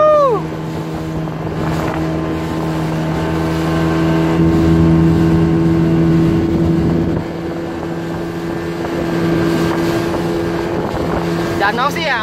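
A motorboat carries passengers across Lake Sarangan in Magetan, East Java, its engine a steady, close, droning hum mixed with wind buffeting, continuous throughout with some talking in the background.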